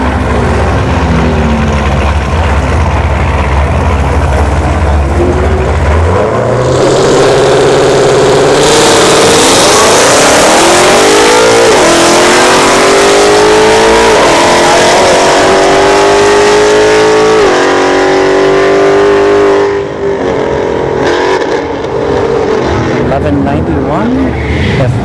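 A C3 Corvette Stingray on a drag strip idles, then revs hard and launches, its engine climbing through rising, shifting tones, loud and close, with a voice talking over it.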